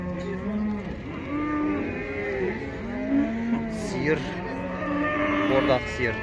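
Fattened cows at the Taraz livestock market low again and again, overlapping moos of varying pitch from several animals close and farther off, with market murmur and occasional voices underneath.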